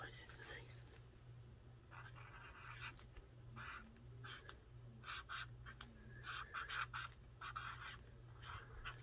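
A Sharpie marker writes on paper for a collage postage-stamp book craft, making quiet scratchy strokes in short irregular bursts with soft speech around them.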